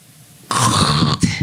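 A man imitates the loud, rasping snore of sleep apnea: one sudden harsh, throaty snort lasting under a second, close and forceful, then a brief catch of breath.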